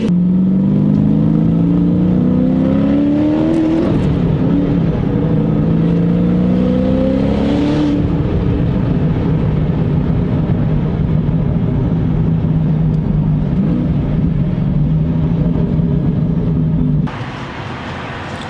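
A 1000 hp Ford GT supercar engine revs hard through rising gear pulls, then settles into a loud sustained drone heard from inside the car.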